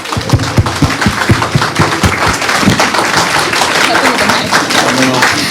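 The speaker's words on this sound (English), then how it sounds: "Give yourself a round of applause." An audience breaks into loud applause, with a few distinct claps at first swelling into dense, continuous clapping alongside crowd voices.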